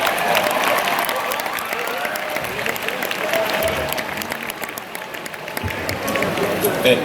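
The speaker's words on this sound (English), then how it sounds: "Can we just give another round of applause" A crowd at a high school graduation ceremony gives a steady, full round of applause, with scattered voices and cheering mixed into the clapping.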